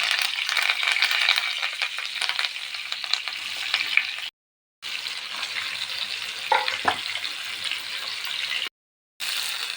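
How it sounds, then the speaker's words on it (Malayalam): Fish frying in oil with curry leaves, a steady close sizzle with crackling pops that continues unbroken apart from two brief silent gaps. "മീൻ പൊരിച്ച് ഏതാണ്ടൊക്കെ റെഡിയായി"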